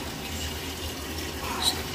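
A washing machine set to a heavy cycle fills with water, a steady hissing rush running throughout at an even level, with a faint click near the end.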